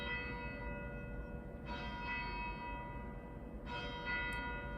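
Two bell strikes ring out with long, shimmering harmonic tails over a steady low rumble, fairly quiet and distant.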